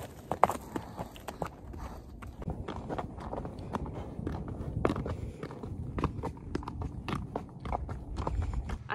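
An unseasoned young horse's hooves clop irregularly on the ground at walking pace under a rider, close by, with creaking and chewing sounds mixed in.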